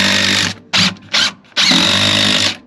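A close, loud power drill whirring in three bursts, a long run, two brief pulses, then another long run, as screws are driven into a track system inside a Roadtrek 190 camper van.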